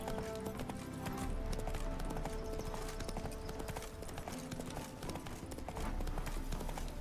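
Geralt's horse Roach moves through The Witcher 3 with continuous clip-clop hoofbeats over a busy game soundscape of ambient noise and music, steady and fairly close.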